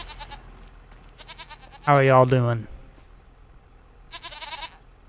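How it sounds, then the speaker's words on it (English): Goats bleat in short, wavering calls in the Farming Simulator 25 game: two brief bleats, then a louder, longer one in the middle and another at the end, with a voice speaking briefly over them. "Come check out our goats here"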